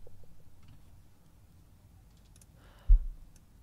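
A single crisp computer mouse click lands near the end, close and brief, while setting up a root CA server, over an otherwise quiet, faintly humming room with no talk.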